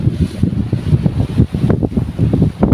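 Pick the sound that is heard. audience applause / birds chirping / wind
wind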